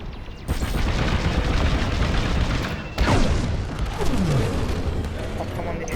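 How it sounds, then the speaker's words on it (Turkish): Explosions and heavy blasts in the Star Wars: Squadrons space-combat game, a continuous loud rumble of booms and weapon fire with a sharp burst near the middle and a swooping tone afterward. "patlamanın içindeydik"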